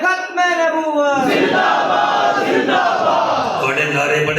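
A large crowd at a religious speech loudly chanting slogans in unison, a dense sustained roar of voices following a single leading voice, filling the whole moment.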